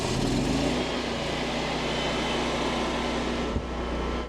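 A Kohler portable generator runs steadily under a 5,000-watt load, a loud, continuous engine drone with broadband hum that holds level throughout, with one brief knock near the end.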